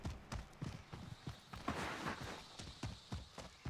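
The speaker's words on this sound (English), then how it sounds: "I knew that he jumped out because I can hear this footstep sound." Running footsteps on grass in the Warzone video game, a rapid series of soft, evenly spaced thuds heard close by over a steady background hiss.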